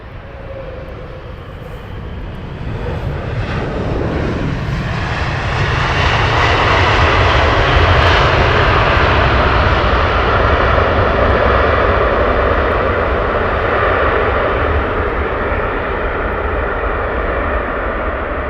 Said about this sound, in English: Gotta love the sound of reverse thrusts.